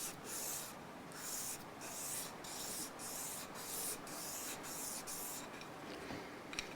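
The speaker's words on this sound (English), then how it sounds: "Tiny bit of sanding just to get it to fit in the slot there." A guitar nut for a Yamaha AES620 acoustic is sanded to fit its slot: quick, even back-and-forth rasping strokes, about a dozen in a steady rhythm, close and fairly soft.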